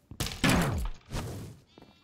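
A Minecraft Super Smash Mobs sheep gives a couple of short, close bleats in quick succession, with a soft thunk between them and a fainter bleat trailing off.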